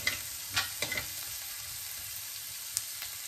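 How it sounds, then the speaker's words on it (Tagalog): Onions browning in a pan for Filipino-style chicken curry give a steady, quiet hiss of frying, broken by a few soft stirring clicks and scrapes. "medyo nagbabraw na po ang ating sibuyas"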